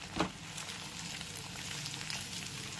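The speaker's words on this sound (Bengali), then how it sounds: "সমস্ত চিকেনটা তুলে নেওয়ার পর ওই একই তেলের মধ্যে 2টো ডিম এইরকম ভাবে ফেটিয়ে দিয়েছি। এবার ভেজে নেব।" Two beaten eggs fry in a pan of oil left over from cooking chicken, giving a soft, steady sizzle throughout.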